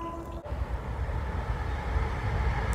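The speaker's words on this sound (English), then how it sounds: "There's a train really close to this forest" A train rumbles steadily close to a forest lightly dusted with snow, a continuous low roar with a brief dip early on, no voices.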